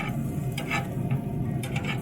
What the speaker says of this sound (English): You can see our garlic toasting.